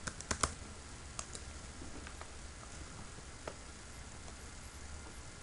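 Keys tapped on a computer keyboard while a password is entered, a few quick close clicks near the start and scattered single taps after, faint and otherwise quiet.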